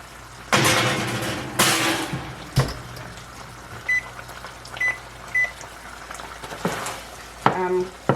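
Taco filling sizzling and simmering in a pan, a low steady hiss under occasional stirring clatters, with a few short electronic beeps from a nearby microwave oven and no talking.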